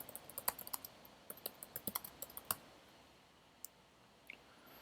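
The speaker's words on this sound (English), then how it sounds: "So if I type that in here," Someone types a keyword on a computer keyboard, giving a quick run of crisp, close key clicks for about two and a half seconds, then a couple of isolated taps in a quiet room.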